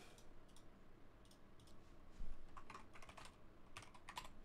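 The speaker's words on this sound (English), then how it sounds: "Wow, great typing, TRISTATE." Fingers tap rapidly on a computer keyboard, a quiet, uneven stream of clicks with bursts of faster keystrokes and no voices.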